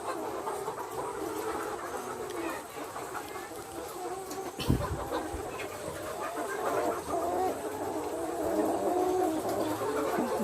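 Pullet hens clucking inside a poultry house, a continuous bed of overlapping clucks and chatter with one sharp knock partway through, under faint background noise.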